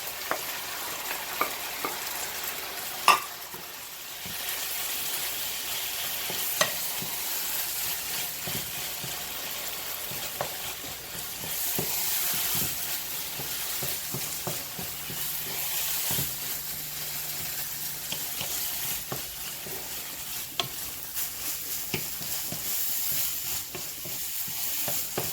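Fish sizzles and fries in a hot pan outdoors while being stirred, a steady crackling hiss broken by scraping utensil clicks and clatters, close and fairly loud, with no talking.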